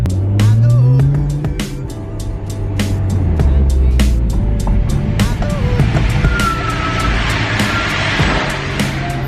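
A Nissan R35 GTR engine runs loud and close, with a low, steady tone that sweeps up and down as it revs, under excited talk from several people and scattered sharp clicks.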